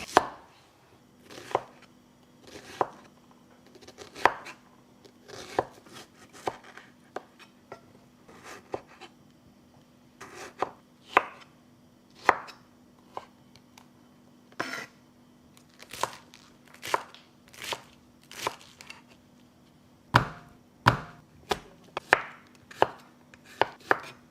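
A knife cuts vegetables into small pieces on a cutting board for a stuffed omelette, producing crisp, irregularly spaced chops, close and clear over a faint steady hum, with no talking.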